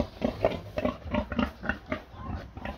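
Wild boar grunting in a steady series of close, rough snorts and grunts, about ten bursts across a few seconds, with no talk over them.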